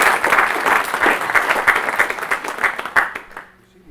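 An audience at a scientific poster session gives a short round of dense, close clapping after a talk, steady for about three seconds and then quickly dying away to quiet.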